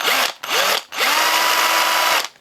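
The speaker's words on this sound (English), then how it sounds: "I'm drilling it on a really steep angle so I can get as much embedment in there as possible." A power drill bores a steeply angled hook-eye hole into a PVC minnow lure body, whining in three loud close bursts with short pauses, the last run longest and steady.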